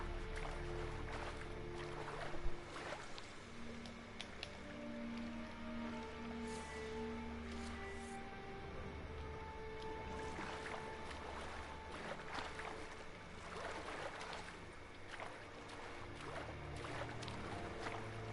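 Boat moving across water in the video game Witcher 3, a steady low rumble with soft lapping that carries on without pause from start to finish, no talk over it.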